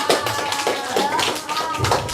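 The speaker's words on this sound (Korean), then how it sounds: "박수 한번 쳐주세요" Children clap together at a Sunday children's worship service, giving a dense, steady patter of hands with voices mixed in.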